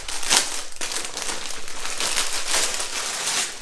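Crinkly packaging rustles and crumples continuously, close and fairly loud, as felt Christmas gift bags are unwrapped by hand.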